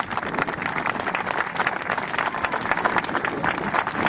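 A live audience gives a round of applause at an event, with steady dense clapping and some crowd noise continuing evenly for several seconds, fairly close.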